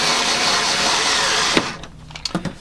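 A power drill whirs steadily at high speed while removing screws from a Sega Dreamcast kiosk, then stops abruptly and leaves a few short clicks and clatters.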